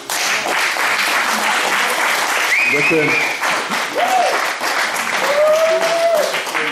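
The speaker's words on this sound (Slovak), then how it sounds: "že by si zaslúžil potlesk" Steady audience applause at a live talk-show event runs throughout, loud and dense, while a voice speaks briefly over it.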